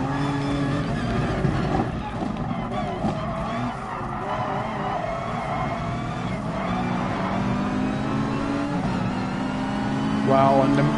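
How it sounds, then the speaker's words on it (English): A race car engine roars steadily in Gran Turismo Sport on a PS4 Pro, with rising revs, tyre skids and other cars nearby, while a player talks over the racing. "the engine sounds are just so incredible"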